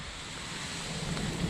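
Strong wind roars steadily across the microphone on the Appalachian Trail in Vermont, a broad rushing noise with low buffeting rumbles and no voices.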